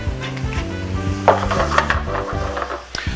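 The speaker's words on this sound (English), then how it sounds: "don't put any stock in with the tomatoes right away. Let them cook down just with olive oil" Tomatoes sizzle as they cook down in olive oil for a pasta sauce, a steady close crackle with occasional stirring scrapes, over a low tonal hum throughout.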